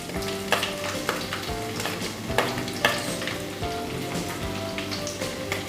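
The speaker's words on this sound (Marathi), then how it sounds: "आता आपण सर्वप्रथम आलं लसूण ह्याची पेस्ट बारीक चिरलेलं आहे ते टाकून घेऊया." Ginger garlic paste sizzles in hot oil in a kadai, a steady close crackle with occasional stirring scrapes and knocks, no voices over it.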